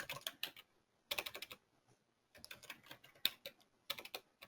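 Bursts of typing on a computer keyboard, entering text in all caps for a blocky-font design, come in quick clattering runs separated by short pauses, close and fairly quiet with no voice.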